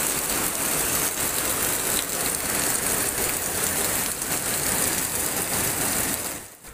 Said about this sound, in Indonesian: Setelah hujan deras mengguyur